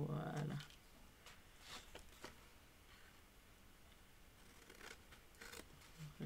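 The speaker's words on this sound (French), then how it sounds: "Et on va couper ces triangles." Scissors snip out triangles for an Easter basket craft in a few short, sharp cuts spread across a quiet room, with a voice briefly heard at the start and end.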